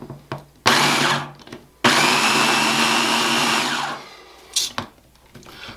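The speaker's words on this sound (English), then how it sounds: "I'm just going to cream this really gently in our food processor" A food processor whirs as it gently creams a cheese filling for lasagna: two close, loud runs, a short burst then a longer steady spin of about two seconds, with brief clicks and quiet pauses around them.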